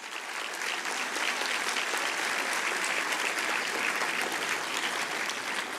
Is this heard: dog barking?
no